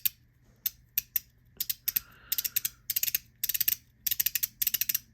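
A spinning fidget pen clicks through its rotation: sharp, close, crisp ratchet-like ticks, first spaced out and then in rapid bursts of three to five, with nothing else heard.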